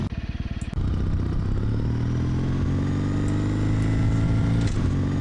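Motorcycle engine from the No One Lives Forever video game, opening with a quick rhythmic putter that gives way to a loud, steady, close revving drone as the bike rides at speed.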